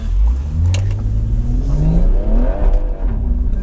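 A JB4-tuned BMW M140i accelerates hard from inside the car, its engine note climbing steadily in pitch with a loud, continuous roar and a brief dip as the revs change, with no talking over it.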